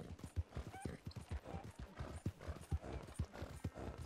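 Horse hooves clip-clopping in steady rhythm as a rider travels in Red Dead Redemption 2, the game's galloping footfalls close and continuous through the whole stretch with no talk over them.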